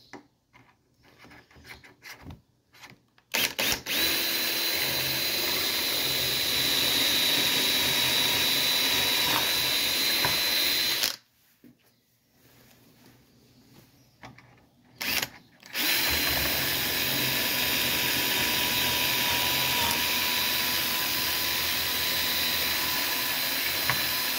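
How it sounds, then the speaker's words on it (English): A power drill whirs steadily for several seconds while drilling dowel holes, stops briefly, then runs again in another long continuous burst, loud and close. "And it looks like I didn't drill through the clamp."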